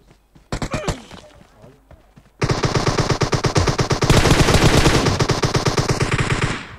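Rapid automatic gunfire from the PUBG video game, a loud sustained burst of closely spaced shots after a few scattered single shots and faint talk, continuing steadily to the end.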